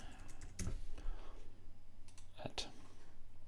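A computer mouse clicks in short, sharp bursts, nearby and fairly soft, over a faint steady room hum.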